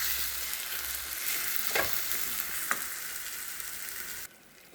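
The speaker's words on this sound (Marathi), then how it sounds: "घट्ट होईपर्यंत मिश्रण हलवत राहावे. सतत हलवत राहायचे आहे." A thick wood apple barfi mixture of sugar and wood apple pulp is stirred in a pan under a steady sizzling hiss, with a couple of brief scrapes, and the sound drops away sharply at the end.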